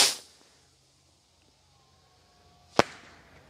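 Beihai firework rockets burst outdoors, a sharp crack fading at the start, then a brief thin whistle and a second loud bang a few seconds later, both set against quiet.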